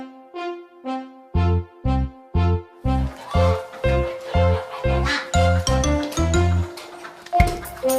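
Rhythmic duck quacks in a children's song about ducks, evenly spaced loud quacking notes, likely voiced or instrumental imitations of a duck, repeating in a steady beat with bright tinkling music joining partway through.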